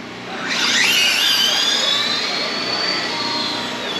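RC drag race cars on a drag strip, a high-pitched whining motor that surges loud and rises in pitch as the cars launch, then holds a steady buzzing drone, close by with no talk.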